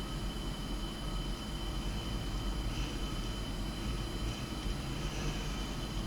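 JF-17 Thunder jet in a flight simulator game rolling along the runway, a faint, steady engine roar and rumble with a thin whine on top, even and unbroken throughout.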